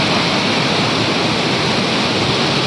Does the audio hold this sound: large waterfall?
yes